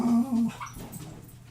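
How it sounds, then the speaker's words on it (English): A puppy named Bruno whimpering indoors, a loud high whine at first, then fading into softer fussing sounds. "Bruno, no! That's my little puppy."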